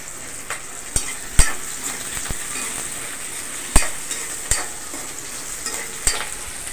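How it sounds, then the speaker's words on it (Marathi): Onion and green chilies roasting in a pan for a bhindi recipe, a steady low sizzle broken by sharp scattered clicks and taps of a stirring spoon against the pan, close and without talk. "आपला कांदा आणि सगळं भाजतंय"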